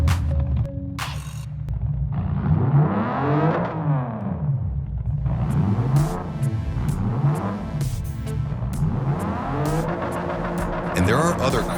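In the mobile racing game Racing Master, a car engine revs up and down in repeated swelling sweeps, loud and near, with a voice briefly heard over it at times.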